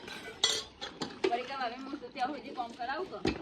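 Dishes being washed by hand, with pots and utensils clinking and knocking repeatedly at close range under steady conversation in Gujarati.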